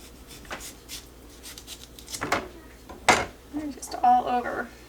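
A knife trims spots off a roasted squash in a home kitchen, giving a few short scraping cuts and clinks against a dish, with one sharper knock near the middle.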